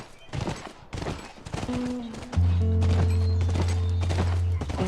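Hooves clip-clop in quick rhythm through a Filipino-language video game, with a horse's whinny and busy game effects layered over a steady low drone, close and fairly loud throughout.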